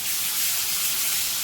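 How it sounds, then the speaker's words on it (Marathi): Ground chutney of chilli, garlic and cumin hits hot oil and sizzles with a constant, bright, even hiss, close and unbroken throughout. "तेल तापले, त्यामुळे आपण वाटून घेतलेली चटणी टाकूया"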